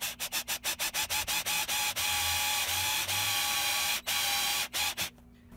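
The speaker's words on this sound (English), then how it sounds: "I'm going to go in with a tungsten drill bit and remove as much material as I can" A tungsten drill bit bores into a roasted maple guitar body, giving a steady high grinding whir broken by rapid rhythmic pulses, close and moderately loud, with no talking.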